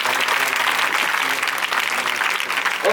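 Loud, sustained applause from a church congregation for a man who has stood up, a dense, even roar of many hands clapping throughout.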